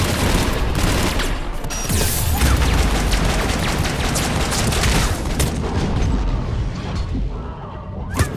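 Cannon fire and gunfire from the video game Mass Effect 3 form a dense, loud barrage of rapid shots and heavy booms that continues almost unbroken throughout.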